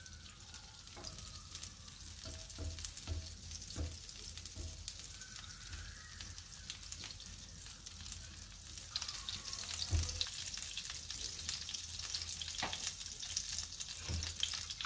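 Vegetable fried rice frying in butter gives off a soft, continuous sizzle, faint and steady, with occasional light scraping and stirring clicks scattered throughout.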